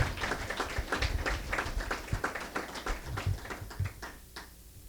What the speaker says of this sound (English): If y'all don't mind giving yourselves another round of applause.